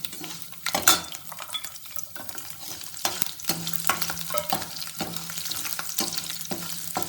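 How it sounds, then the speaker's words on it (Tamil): Garlic sizzles steadily in hot oil while being sautéed for a curry leaf and garlic kuzhambu, with a spoon scraping and stirring the pan in regular strokes, close up and with no talk. "பூண்டையும் போட்டுட்டு ஒரு ரெண்டு நிமிஷம் நல்லா வதக்கணும்"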